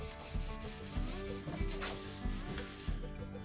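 A cloth wipes back and forth over a wooden chair frame in steady strokes, a soft scraping swish repeating closely, with no voices.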